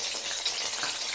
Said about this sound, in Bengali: এই যে আমি বেগুনটাকে আগে ভেজে তুলে রাখছি,